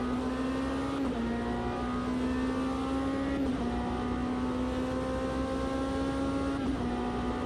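A Porsche race car engine in the Automobilista 2 racing game holds a steady, loud drone with brief dips at each gear change, roughly every two to three seconds, and no talking.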